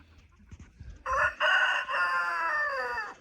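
A Cream Legbar rooster crows once nearby, a loud drawn-out call rising over quiet farmyard background noise.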